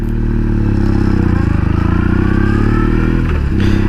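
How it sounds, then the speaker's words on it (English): BMW R 1200 C motorcycle engine running close by, a loud, deep, throbbing idle with an even pulsing rhythm and a short blip of revving near the end. "There's this deep idling growl, you know, about this bike that I love."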